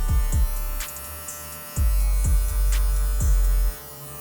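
A Wezteck hair clipper buzzes close up with a steady electric hum, its loudness dipping and swelling as the blade presses against hair, with short clicks and cutting strokes along the way and no talking.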